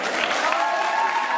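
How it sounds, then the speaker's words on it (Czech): Applause at a Czech awards evening, a steady wash of clapping from an indoor audience filling the whole short moment with no pauses. "Takže potlesk."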